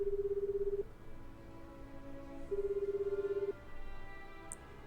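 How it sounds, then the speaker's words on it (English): A phone in the video game 428: Shibuya Scramble rings with steady electronic tone bursts, two long pulsing rings separated by a pause, clean and moderately quiet with no voices. "The phone rings several times before it went to voicemail."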